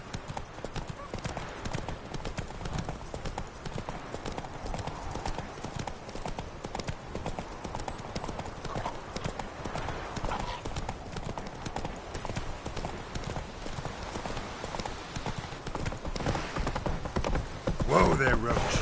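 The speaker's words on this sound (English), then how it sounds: "Whoa there, Roach" Horse hooves gallop in The Witcher 3 video game, a fast, continuous clip-clop rhythm close and loud throughout, with a voice briefly speaking near the end.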